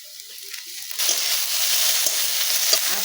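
Dried fish dropped into hot oil with onion, garlic and plenty of chili in a home Bengali kitchen, a gentle sizzle that suddenly swells into loud, steady frying after about a second, with light stirring clinks.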